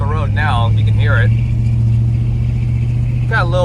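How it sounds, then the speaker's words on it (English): A 1987 Chevrolet Silverado truck driving up a road, its engine a steady loud drone heard from inside the cab while someone talks over it in short bursts. "Got a little bit of a sound to her, but just a normal driving truck"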